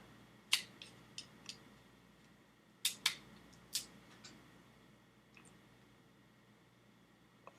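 A cigar cap is snipped with sharp, crisp clicks of a cutter, several brief snaps scattered across a quiet room, with a tight cluster in the middle.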